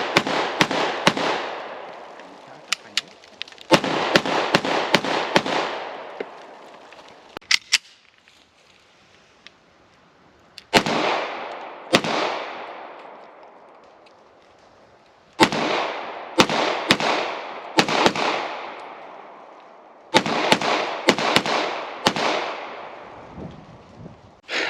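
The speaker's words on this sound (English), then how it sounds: "Felt like shooting the Vis 100 again." Sharp gunshots from an FB Radom Vis 100 pistol crack out in quick groups of two to four, each loud and close with a short ringing decay, separated by brief pauses.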